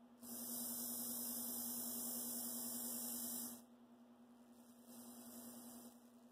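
An Athearn model train motor held stalled by a finger, giving a steady, faint electrical hum with a constant tone that drops in level partway through.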